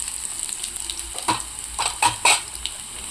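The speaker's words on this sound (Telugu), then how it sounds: "ఇప్పుడు మనం నూనెలో ఎల్లిపాయ వేసుకుందాం" Garlic, chana dal, red chillies and mustard seeds frying in oil for a tempering, a close crackling sizzle with a few sharp pops and spoon scrapes bunched in the middle.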